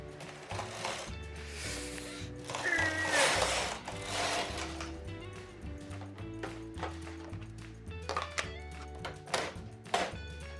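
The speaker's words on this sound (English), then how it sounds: "knit one row of plain knitting in the cream yarn" A domestic knitting machine carriage runs across a row of plain knitting in cream yarn for a long-sleeve sweater, making a steady mechanical clatter and whirring hum with rhythmic knocks. It is close and continuous, with no voices.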